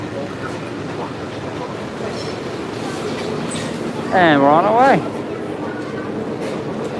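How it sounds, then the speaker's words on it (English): A Disney monorail train hums and rumbles steadily as it arrives and departs, with a short warbling electronic tone partway through, while a person speaks briefly. "Another monorail coming in."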